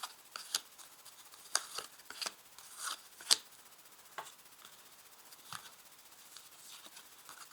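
Tarot cards shuffled and dealt out: soft papery rustles with sharp snapping flicks as cards are laid down, quiet and close, in scattered bursts with no talking.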